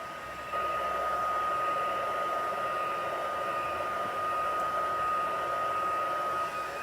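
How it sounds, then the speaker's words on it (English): Heat tool blowing a steady, loud, hissing airflow to melt white embossing powder on black cardstock during card crafting, a continuous whirring drone running alone without speech. "Just until the embossing powder melts."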